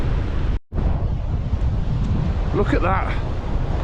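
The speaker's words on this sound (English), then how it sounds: "It's breezy, but it's nice." Coastal wind by the North Sea buffets the microphone in a steady, loud broadband roar with a brief dropout, while someone speaks briefly near the end.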